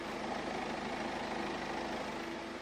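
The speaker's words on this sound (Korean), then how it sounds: "뭐 이 정도의 엔진 소음이 납니다." A BMW 118d diesel engine idles steadily with a low, even rumble and faint mechanical clatter, heard close up with the hood closed and no voices.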